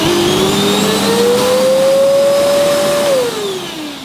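A Hoover Enigma 2300-watt vacuum cleaner motor soft-starts, its whine rising steadily in pitch, then dipping slightly as it settles, loud and close with a broad airy rush underneath.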